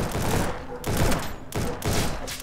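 Shotguns boom in a mass battle in the game Ancient Warfare 3, three loud, dense bursts of overlapping blasts, each cut off abruptly by a brief gap.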